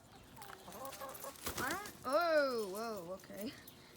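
Backyard chickens clucking and calling up close, with a rising squawk and a run of throaty clucks while a person talks nearby.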